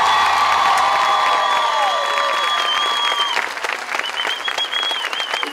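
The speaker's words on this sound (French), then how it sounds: "alors on peut l'applaudir avec tout notre cœur" A concert audience at an outdoor show in Sainte-Marie, Réunion, applauds loudly and continuously, a dense wash of clapping with some cheering and sustained tones ringing over it.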